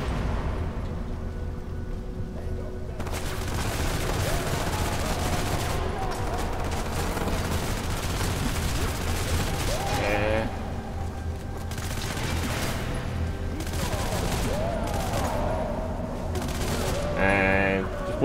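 Video game gunfire from Hatred, a steady sustained barrage of rapid shots running throughout at moderate loudness, with occasional brighter bursts layered over a dense rumbling background.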